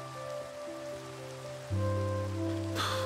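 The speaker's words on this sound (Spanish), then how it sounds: "está lloviendo" Rain pours during a Minecraft thunderstorm, a steady patter that turns heavier and louder partway through, set against sustained tonal game music notes.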